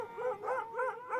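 Dogs howling as a spooky sound effect in a narrated ghost story, long wavering mournful howls rising and falling in a steady rhythm, fairly loud and close with no voices over them.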